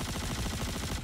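Rapid automatic gunfire in a space-hangar video game, a dense continuous rattle of shots filling the whole moment, loud and close with no talking.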